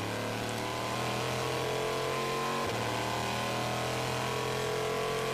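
A 2009 Le Mans 24 Hours race car on Michelin tires pulling back onto the track after a pit stop, its engine giving a steady, loud, close droning note with a brief dip midway, no voices.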